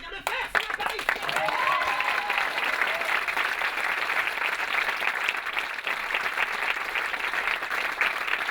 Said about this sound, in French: Je voudrais encore une fois que vous applaudissiez François Lys,